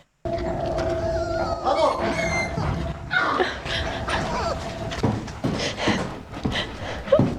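Dogs in the TV series Chernobyl howl and whine in mournful, wavering cries beneath a dense mix of soundtrack noise, with people talking over parts of it.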